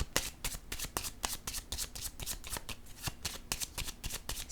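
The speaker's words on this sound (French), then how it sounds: "Je vais piger une carte" A deck of tarot cards riffles and slaps in a quick, even rhythm of crisp shuffling, close and fairly quiet, with no talking.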